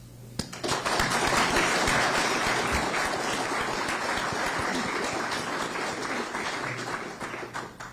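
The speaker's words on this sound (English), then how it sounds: "the only time that we will ask our audience to show its appreciation by clapping for the candidates will be at the end of the debate and right now as we welcome them" An audience at a 2024 Fifth U.S. Congressional District candidate debate applauds as the candidates are welcomed, a full burst of clapping that swells quickly and holds steady for several seconds before tapering off.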